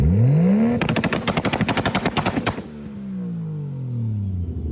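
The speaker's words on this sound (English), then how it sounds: "Oh yeah, you cannot beat a 2-step Supra." A Toyota Supra on two-step launch control, the engine held high before a rapid, loud machine-gun-like burst of exhaust pops, then the revs falling away and climbing again.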